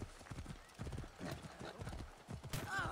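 Horse hooves clatter in a quick, steady galloping rhythm in the Assassin's Creed Origins video game, close and fairly loud, with a brief whinny-like call near the end and faint voice underneath.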